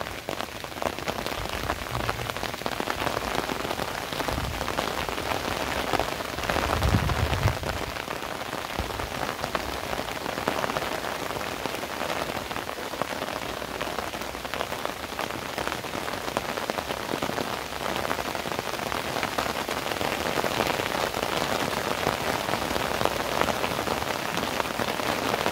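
Steady rain in the NCR falling on dusty trees, including a karonda bush, a dense continuous hiss of drops on leaves and surfaces that stays loud throughout with no talk.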